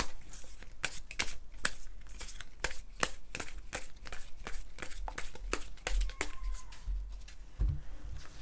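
Tarot cards are shuffled and drawn in a rapid, crisp run of papery riffles and flicks, close and fairly quiet, with no talking.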